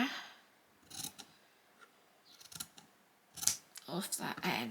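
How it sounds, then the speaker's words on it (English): Scissors cut a piece of ribbon for a hairband bow, giving a few close, soft snips and rustles spread over several seconds, with quiet handling in between. "So I'm just going to cut that there,"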